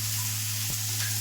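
Ghee sizzles in a hot pan with a steady, close crackling hiss that runs throughout, with one brief clatter partway through.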